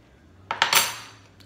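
A spoon is scraped clean over a Blackstone griddle while chicken and shrimp stir fry is cooked: three quick, close metallic scrapes and taps in succession, then a fading ring and quiet.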